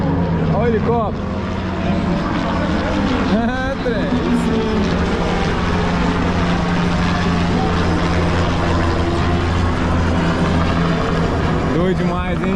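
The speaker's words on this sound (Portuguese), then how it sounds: "Olha o helicóptero." A helicopter flies over a superbike race in the 1000cc class of the Brazilian championship, its steady engine and rotor drone loud and continuous against motorbike noise, with voices talking throughout.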